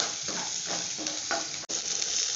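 Onions sizzle steadily in a hot pan for a home rice-and-curry meal, a dense close hiss with a few soft stirring scrapes and one brief dip in the middle, no voices.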